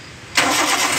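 A Maruti Zen MPFI engine cranks and catches abruptly, jumping into a loud, steady idle close by after a quiet moment.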